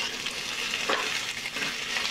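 Potato and ridge gourd frying in a pan while a spatula stirs them, a steady dense sizzle running throughout with a brief scraping stir near the middle, close and fairly loud with no voices.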